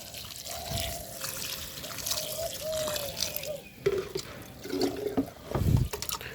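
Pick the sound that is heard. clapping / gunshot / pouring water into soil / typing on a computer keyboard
pouring water into soil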